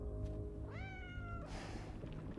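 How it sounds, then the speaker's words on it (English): A cat in the video game Death Stranding 2 gives one clear, rising-and-falling meow, heard close and alone over a low ambient game background. "What kind of cat is that?"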